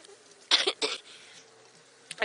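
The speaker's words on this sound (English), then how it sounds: "I simply couldn't hold back the hacking coughs" Several harsh, hacking human coughs, two close loud bursts in quick succession followed by a quieter pause and a brief final cough, heard outdoors on a safari drive.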